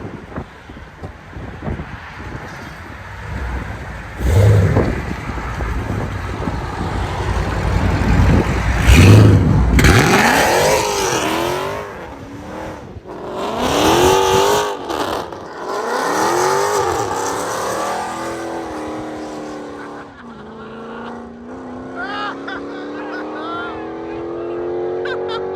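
A 2019 Dodge Charger Scat Pack with the 6.4L HEMI and an aftermarket loud exhaust revs hard several times, each rise and fall roaring up close. Wind buffets the microphone and people talk over the engine.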